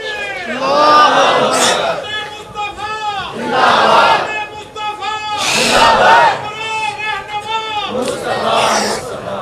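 A crowd at a religious conference on the Prophet's life chants slogans in loud call-and-response waves, a lead voice followed by many voices answering together, with repeated surges about every two seconds.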